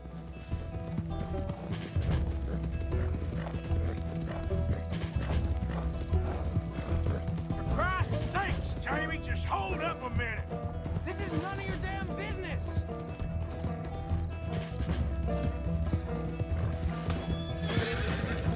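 A horse in Red Dead Redemption 2 gallops with rhythmic hoofbeats and lets out several whinnies and neighs, heard close alongside game ambience and a voice talking over it.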